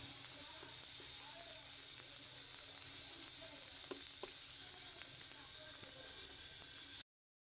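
Food fries with onions in a pan, giving a soft, steady sizzle with small crackles and pops, heard close but quiet until it stops abruptly.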